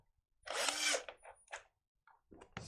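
A power drill drives screws about 5/8 of an inch long, one sustained whirring burst followed by shorter stuttering pulses and a brief final spin, close and moderately loud with no talking.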